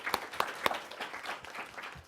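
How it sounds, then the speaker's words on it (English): Scattered hand claps from an audience at a conference panel on Chinese energy investment in the U.S., a few sharp claps standing out over a thin, faint patter that fades quickly. "applause one more time for these three talented speakers."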